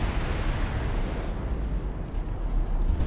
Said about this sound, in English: We might need to back away in case this blast is big. Explosion imminent.